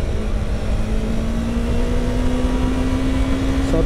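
A Yamaha YZF-R3 motorcycle engine screams at high RPM while riding, a loud close whine with a steadily rising pitch as the revs climb, with constant road and wind roar underneath.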